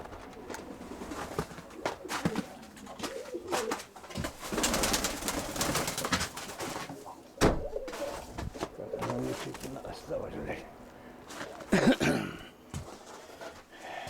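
Pigeons in a loft coo in low, soft bursts at close range, mixed with wing flutters, handling noises and someone speaking intermittently.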